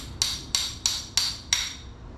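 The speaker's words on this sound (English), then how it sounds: "First, I'm just going to hammer them flush." Five sharp metallic hammer strikes in even rhythm tap parts flush on a Ford F1 crossmember before snap rings go in, close and ringing briefly after each blow.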